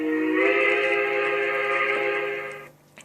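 A Trainz simulator locomotive horn sounds one long, loud, steady chord, holding for over two seconds before cutting off abruptly into quiet.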